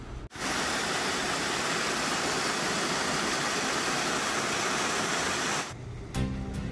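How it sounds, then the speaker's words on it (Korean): Yongso waterfall in Jujeongol valley, Seoraksan, roars as a dense, steady broadband rush of falling water that holds constant before cutting off abruptly near the end. "용소폭포의 장엄한 물소리를 한번 감상해 보시겠습니다."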